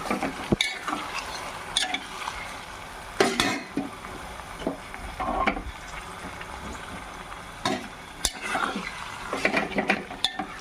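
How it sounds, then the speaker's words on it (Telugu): Mutton pieces are stirred with softened onions in a hot pan, scraping and clinking of a spoon against metal in bursts over a steady sizzle, close and moderately loud, with no talking. "మటన్ వేసుకొని ఒక్కసారి తిప్పుకుందాం"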